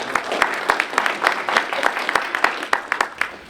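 An audience claps continuously in a room, a dense, steady patter of many hands at moderate loudness lasting throughout.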